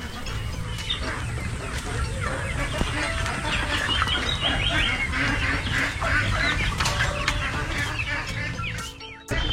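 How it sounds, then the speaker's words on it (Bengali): Hundreds of free-range chickens and ducks roam a poultry farm near Valki village outside Kolkata, a dense chorus of clucking and quacking close by and continuous, with faint human sound underneath. "সেখানে শয়ে শয়ে হাঁস মুরগি ঘুরে বেড়াচ্ছে।"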